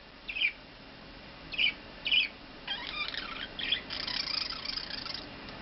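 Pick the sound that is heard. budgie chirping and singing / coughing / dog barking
budgie chirping and singing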